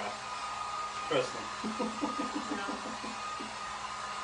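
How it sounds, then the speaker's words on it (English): Steady blowing hiss of a heat gun drying paint on a stencil for Christmas decor, running throughout at a constant level beneath a person talking. "we're being smart using the heat gun because nobody wants to watch paint dry"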